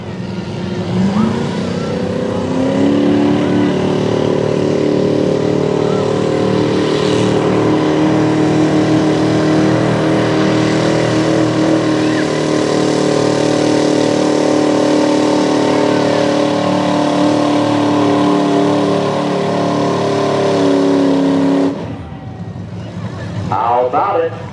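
A 4,500-pound modified small-block mini truck pulls a sled at a pulling event, its engine roaring loud and sustained for about twenty seconds before cutting off abruptly, with crowd noise around it.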